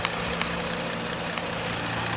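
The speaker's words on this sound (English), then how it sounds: "This is the engine." A 2017 Ford Explorer Police Interceptor engine idles at a fairly low level, giving a steady, even hum with a faint mechanical tick and no other sounds.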